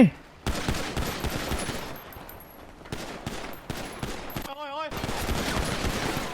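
Gunfire in GTA V Zombie World, loud rapid bursts of automatic weapons and scattered single shots crackling throughout, with a short voice cutting in briefly.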